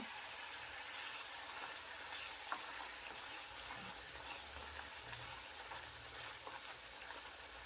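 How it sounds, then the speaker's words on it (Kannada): Meal maker keema curry gravy bubbling in a pan, a steady soft sizzle and hiss with faint popping, no talk. "ನೋಡಿ ಗ್ರೇವಿ ಕುದೀತಾ ಇದೆ"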